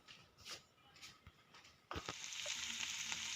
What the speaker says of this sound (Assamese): বিন আৰু আলু ভাজিছোঁ ৰুটিৰ লগত খাবৰ বাবে।